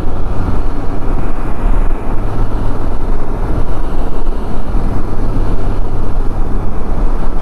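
A Can-Am Spyder accelerating along a road, a loud, continuous, dense engine and wind roar heard close up from on board, steady throughout with no voices.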